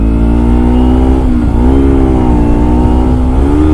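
A motorcycle accelerates hard on a freeway, its loud, close engine holding a steady harmonic drone that dips briefly and then climbs again as it speeds up with traffic, with no talk over it.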